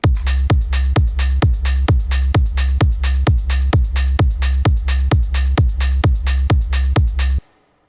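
Techno drum loop with a steady kick-driven low end and grouped hi-hats pulsing in a tight, even rhythm, loud and upfront throughout before cutting off abruptly near the end.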